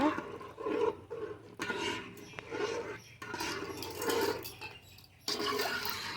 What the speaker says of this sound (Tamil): நல்லா ஒரு மிக்ஸ் பண்ணிக்கோங்க.